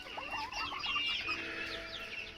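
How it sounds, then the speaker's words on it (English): A blue Cochin rooster clucks in a quick, busy string of calls at close range, with one louder squawk in the middle and no talking. "This is a blue Cochin, but this is a rooster."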